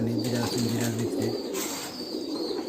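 Pigeons kept inside a cage coo in a steady, repeating low rhythm up close, several rounded calls in a row that give way to a softer murmur of birds.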